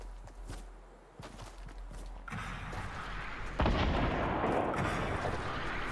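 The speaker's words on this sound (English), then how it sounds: "Oh, somebody got a rocket launcher." Gunfire and heavy launch blasts from a Fortnite Battle Royale match, with a rocket launcher firing amid scattered shots and footsteps, the booms growing louder and denser toward the end.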